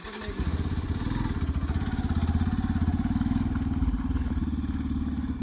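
A motorcycle engine throbs close by as it is ridden, a fast, even, loud pulse that runs throughout with a slight swell in the middle, with no voices.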